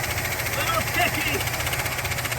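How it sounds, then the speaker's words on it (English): A 1960 Chrysler Saratoga engine idles steadily with a faint ticking lifter in the rhythm, a close, constant mechanical drone with light knocking throughout. "Yeah, she's got a ticky lifter."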